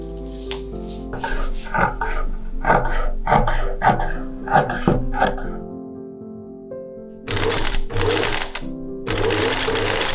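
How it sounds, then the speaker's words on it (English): A sewing machine stitches fabric sleeves in several short rhythmic runs with pauses between, its motor whirring close up, while a hum sits under the early bursts. "I always feel like it's a lot easier to sew the gathering in place before closing the seams on the sleeve"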